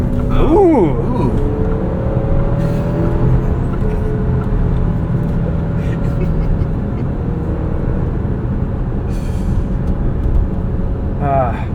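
An Alfa Romeo Stelvio Tributo Italiano drives with its engine pulling steadily under acceleration, a loud continuous interior drone with rising tones near the start and end and some road noise.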